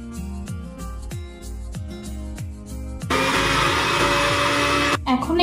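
A kitchen blender whirs through aloe vera leaf gel, first in several short pulsing bursts, then a sustained loud high-pitched grind that cuts off abruptly near the end.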